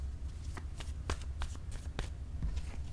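Playing cards handled from a word-card deck in a party game, with a few soft, quick papery snaps and flicks spread over a steady low background hum, close and quiet.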